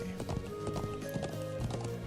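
Horse hooves clip-clopping at a steady walking rhythm in Trails of Cold Steel, a horse leading sheep back to a settlement, close and continuous over game music with a brief whinny-like tone.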